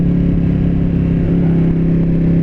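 A Ducati Panigale V2 sport motorcycle in race mode with a full exhaust idles loudly and steadily nearby, a deep rumbling exhaust drone with a slight rattle, no voices present.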